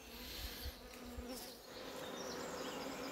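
Honey bees buzz steadily at a hive during the introduction of a mated queen, a dense, continuous close-up hum with no voices.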